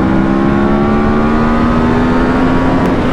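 A Yamaha R1 sport motorcycle pulls hard in third gear, its engine note climbing steadily in pitch, loud and close with wind rush around it.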